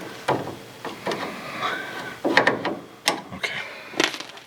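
Brake adjuster on a Morris Minor's front drum brake being loosened, a series of sharp metallic ratcheting clicks in irregular bursts, close and fairly loud with no talking.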